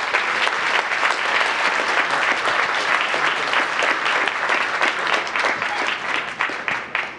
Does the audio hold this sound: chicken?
no